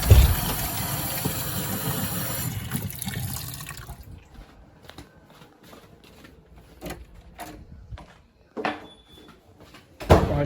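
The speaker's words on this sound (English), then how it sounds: "Yep, water's going." Water from a repaired leaky shutoff valve flows into a sink, loud at first, then fades to quiet with scattered clicks, drips and handling noises, and a brief splash near the end.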